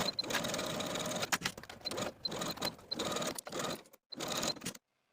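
A sewing machine stitches a straight seam on a linen jacket collar in several rapid bursts of needle chatter, broken by short pauses, then stops abruptly.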